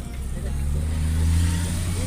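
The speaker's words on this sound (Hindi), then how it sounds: "देख रहे की हमारी गाड़ी चल रही है" A car's low engine rumble and road drone hold steady as it drives through heavy traffic toward Devka beach in Daman, loud and close from inside the vehicle.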